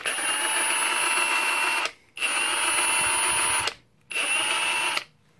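A Milwaukee Fuel 18V high-torque impact wrench runs at its first speed setting in three steady, loud whirring bursts of about two seconds each, separated by brief pauses.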